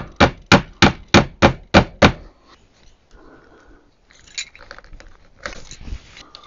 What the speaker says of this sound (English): Nailing U-nails upside down.